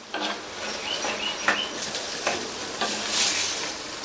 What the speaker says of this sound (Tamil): இந்த வெங்காயம் நல்லா வதங்கி ஓரளவு அதனுடைய கலர் மாறி வரணும்.